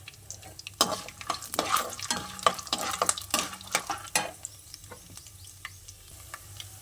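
Peanuts and tempering seeds fry in hot oil for mango pulihora, a close sizzle punctuated by a run of quick spoon scrapes and stirs against the pan that fade to a quieter crackle.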